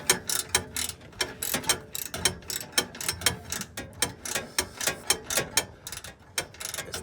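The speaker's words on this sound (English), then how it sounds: "Here we are removing the front bolts." Rapid ratchet clicking in quick bursts, close and loud with short pauses between strokes, as a wrench backs out exhaust bolts on a 2015 Subaru WRX during a cat-back exhaust removal; no voices.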